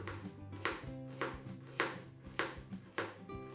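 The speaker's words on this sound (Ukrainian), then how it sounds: "тонко нарізаємо червону цибулю" A knife slices red onion thinly on a board in close, steady chops, about six crisp strikes at an even pace with no speech.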